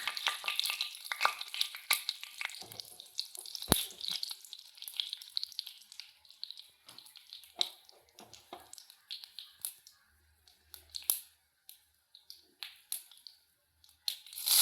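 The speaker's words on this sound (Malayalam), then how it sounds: "വെളിച്ചെണ്ണ ചൂടായി വരുമ്പോൾ കടുകിട്ട് കൊടുക്കും കടുകിട്ട് കൊടുത്തിട്ടുണ്ട് മുളകിട്ട് കൊടുക്കാം" Mustard seeds and chilies hit hot coconut oil, crackling and popping in close, irregular bursts that thin out into scattered sharp spits and pops.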